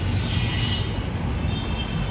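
A passenger express train pulls into Tambaram railway station, wheels squealing in a high sustained screech over a low rumbling roll of carriages, loud and near, with no talk.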